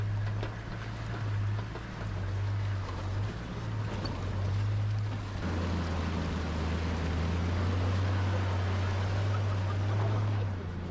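A 4x4 safari jeep in Masai Mara crosses a stream, its engine a steady low hum that shifts pitch midway as it works through the water, with splashing and rushing noise throughout.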